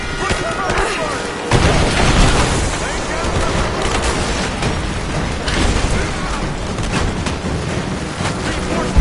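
Grenade blasts and heavy gunfire boom and crackle in Rise of the Tomb Raider, with loud sustained rumbling bursts and shouted character dialogue mixed in.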